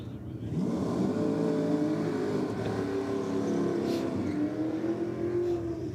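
Supercharged race car engine revving at a track, a strong, sustained mid-distance engine drone with rising and falling pitch, heard alone without talk.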